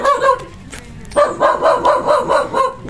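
A dog barks in a quick run of about six yappy barks close by, after a brief whimpering sound at the start.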